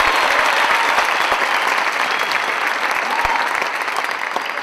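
An audience at a film Q&A event applauds steadily, a dense wash of clapping that fades slightly toward the end.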